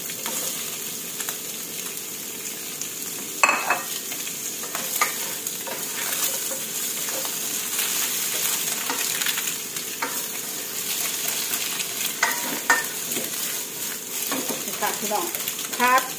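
Japanese cucumber and scrambled egg are stir-fried in a pan, giving a steady sizzle with repeated spatula scrapes and clacks against the metal throughout.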